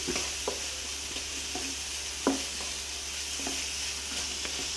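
Prawns sizzle in a spicy masala in a pan while a utensil stirs and scrapes at irregular intervals, sharp scrapes over a constant close frying hiss, with no voices.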